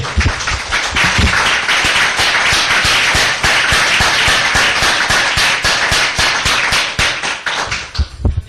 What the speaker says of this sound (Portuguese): Vamos dar uma salva de palmas para essa palavra?